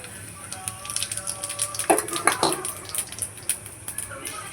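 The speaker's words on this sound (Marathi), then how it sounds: "आता आपण तेलामध्ये खडा मसाला टाकून घेऊयात." Whole spices dropped into hot oil in a pan while cooking kaleji petha masala, giving a steady close sizzle broken by a few clinks of a utensil against the pan.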